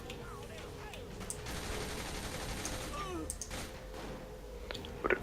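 Dense machine gun fire rattles through a firefight in Saints Row The Third, a steady wash of gunfire with sharper bursts near the end, while game voices talk over it.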